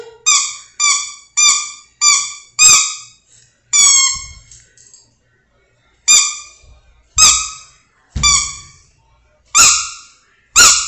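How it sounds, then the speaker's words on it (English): A squeaky elephant dog toy squeaks about a dozen times in sharp, high, pitched bursts, some in quick succession and others spaced apart, loud and close with no talking. "Who wants the squeaky elephant?"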